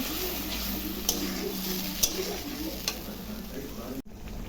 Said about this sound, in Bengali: মশলাটা এখন ভালো করে কষাবো